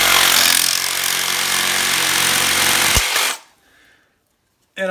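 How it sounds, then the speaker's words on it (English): A Sawzall reciprocating saw cuts through a sump pump downspout pipe, a loud, dense, steady buzzing roar held close for over three seconds before it abruptly stops, then briefly restarts. "I am using a Sawzall to cut this stuff because it's a lot easier."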